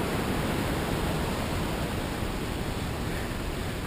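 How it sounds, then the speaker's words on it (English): Yosemite Falls roaring as a dense, unbroken wash of falling water, loud and steady throughout with no other sounds standing out. "Mike, look at that! Waterfall!"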